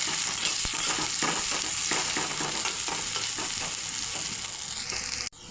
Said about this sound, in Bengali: এখন পেঁয়াজটা লাল লাল করে ভেজে নিতে হবে